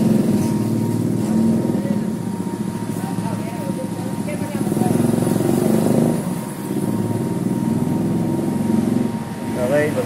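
A Yamaha RXT motorcycle engine idles at its exhaust port with a steady, loud drone, while someone talks over it throughout.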